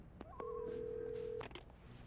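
A telephone in the Alan Wake video game gives a single steady electronic ring tone lasting about a second, close and clear over a low game ambience with a few brief clicks around it.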